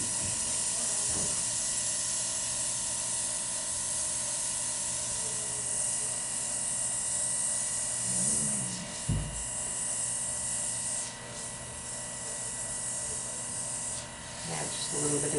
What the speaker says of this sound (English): the further away, the wider the spray is going to be.